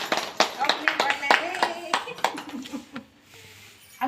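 Small children clap their hands at an anganwadi preschool, a quick uneven run of sharp claps over nearby talking voices, fading briefly before a final clap.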